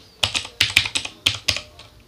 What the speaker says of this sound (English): I'm just going to type in sudo yum install